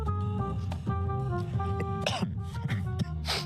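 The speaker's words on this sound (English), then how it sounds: "you just sit here listening to him sniveling and coughing for a minute" A man coughs and clears his throat a few times, harsh bursts breaking up stretches of low humming voice.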